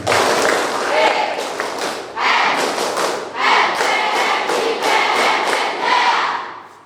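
Youth Red Cross (PMR) members at a training event at a vocational school clap in loud, patterned rhythmic bursts, groups of quick claps separated by short pauses, with crowd voices mixed in.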